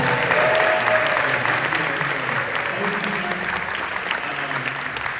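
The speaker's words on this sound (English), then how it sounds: "give a huge round of applause to this amazing school, Boone High School, and their principal" Sustained applause from an audience at a district community event for a congressman, honoring Boone High School and its principal; steady, dense clapping fills the whole stretch at even loudness, with a voice talking over the start.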